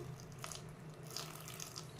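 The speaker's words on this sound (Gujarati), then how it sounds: "હવે થોડુંક પાણી એડ કરી દેવાનું." Water poured into a pressure cooker holding bottle gourd for pav bhaji, a quiet, steady trickling splash with a few brighter drips and gurgles.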